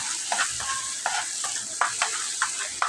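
Chili and spices stir-fried in a pan for a Bengali fish curry with potato and teasel gourd: a low steady sizzle broken by regular spatula scrapes and stirring knocks, close and alone without talk.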